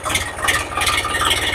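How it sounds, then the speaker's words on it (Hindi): An Eicher Prima 557 tractor engine runs with a steady, rattling mechanical throb, close and fairly loud, with no speech. "तो सबसे पहले चालू करते हैं अपन ट्रैक्टर को।"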